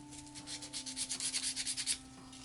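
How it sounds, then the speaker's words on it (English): Quick back-and-forth sanding strokes on a plastic prop blaster, about a dozen rhythmic rasps in a row, close and fairly quiet over a faint steady hum. "Just a little bit of sanding"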